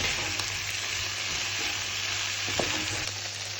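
Minced meat frying with spices in a pot for a one-pot chilli, a steady loud sizzle running throughout with a few faint scrapes and clicks of stirring.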